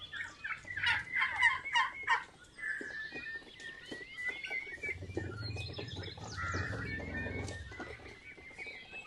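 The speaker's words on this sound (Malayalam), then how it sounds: "നമ്മുടെ ടർക്കികൾ പുല്ല് തിന്നുന്നുണ്ടോ?" A flock of farm turkeys gobbles repeatedly in bursts while grazing on grass in a yard, their calls fairly close over a soft rustle and light chirps.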